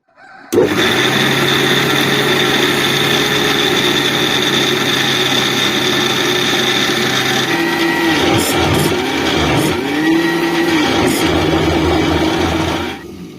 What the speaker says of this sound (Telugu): ఇంకా మిక్సీ గ్రైండర్లో తిప్పేసుకుందాం